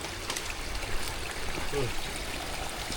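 Steady babble of flowing river water near a jungle waterfall campsite, close and continuous, with brief faint voice-like sounds partly mixed in.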